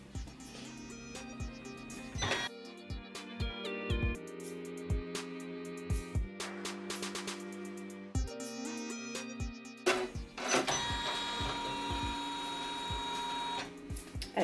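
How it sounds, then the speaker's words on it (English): A Janome 550E embroidery machine sews a placement stitch on fabric in the hoop: close, rapid mechanical whirring and ticking in bursts separated by short pauses, with no talking. "So the first thing I'm going to do is do my placement stitch."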